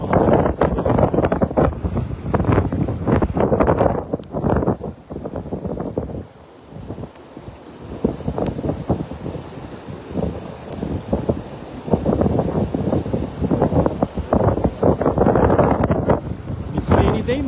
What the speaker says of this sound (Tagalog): It's rainy day mga idol. Yan, lakas pa ng hangin.